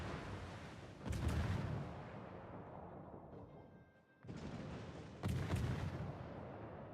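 Naval artillery salvos in the World of Warships naval battle game, two loud booming volleys roughly four seconds apart, each with a heavy low rumble that decays slowly, over a steady background of engine and sea ambience.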